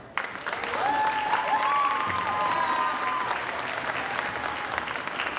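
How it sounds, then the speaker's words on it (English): School winter concert audience breaks into a round of applause, a broad sustained wash of many hands in a large hall, rising quickly and holding steady, with a brief whistle-like tone over it. "Would you please give them a round of applause?"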